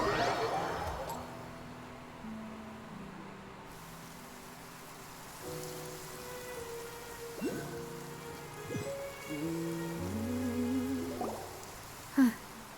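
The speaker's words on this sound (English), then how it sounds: "It's been raining non-stop for a few days now." Steady rain falling in the Genshin Impact game world, a soft continuous hiss running the whole time beneath layered game music tones, with a brief sharp click near the end.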